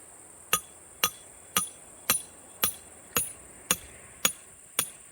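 A hammer strikes a hand-forged tool being driven down into cherry roots, nine sharp metallic blows at a steady pace of roughly one per half second, each ringing briefly over faint outdoor background.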